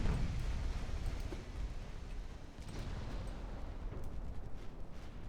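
Continuous rumble of naval gunfire and shell explosions from the warship battle game Ultimate Admiral Dreadnoughts, a dense, steady barrage of booms and crackling blasts with no clear gaps, loud throughout.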